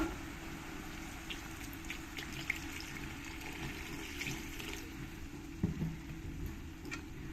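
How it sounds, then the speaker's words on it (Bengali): Water is poured into a pan of spinach and rohu fish belly, a soft, steady trickle and splash heard close but faint, with a few light clinks of the pan. "এবার দিয়ে দেবো জল"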